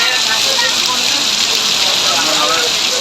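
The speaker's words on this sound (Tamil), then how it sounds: "சுமார் 1 மணி நேரத்திற்கு மேலாக கனமழை பெய்தது" Heavy rain pours steadily during a thunderstorm in Tamil Nadu, a dense, loud, continuous hiss with no pauses.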